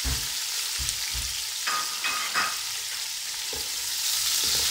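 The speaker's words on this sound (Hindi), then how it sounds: "अब इसमें मैं इस वक्त ये प्याज सारा डाल देती हूँ। प्याज डाल के हमने इसको गोल्डन ब्राउन करना है।" Chopped onions sizzle steadily in hot oil while frying to golden brown for chicken pulao, a constant hiss broken by a few soft stirring scrapes, close and unaccompanied by voices.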